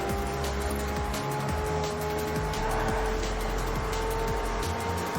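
A car roars continuously through free-roam driving in the video game Forza Horizon 4, its engine droning loud and steady with shifting pitch and faint tire noise throughout, no voices.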